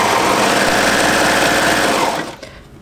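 A serger overlocking a knit fabric seam on a jumpsuit, a loud close buzzing whir running steadily for about two seconds before cutting off abruptly.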